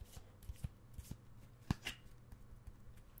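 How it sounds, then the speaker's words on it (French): A deck of playing cards is shuffled close up in a quiet room, a series of soft riffling snaps and taps with one sharper clack in the middle. "Je vais les mélanger encore, le paquet."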